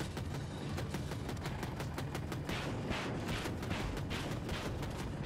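In a video game, an AH-64 Apache attack helicopter fires its gun in a dense, continuous burst of rapid shots layered over loud rotor and engine roar, sustained throughout without pause.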